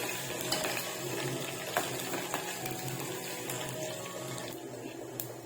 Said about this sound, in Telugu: ఇవి కొద్దిగా చిటపటలాడాలి. అలాగే ఎండుమిర్చి కూడా, ఇవి కూడా కొద్దిగా ఇలా ఎగనివ్వాలి.